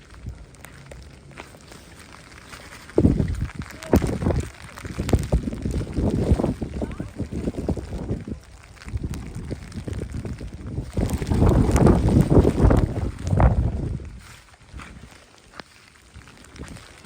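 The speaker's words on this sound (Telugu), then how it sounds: "Heavy winds." Heavy wind gusts roar across the microphone at a rain-soaked Mahabaleswaram viewpoint, rising and falling in strong surges with brief lulls and no talk.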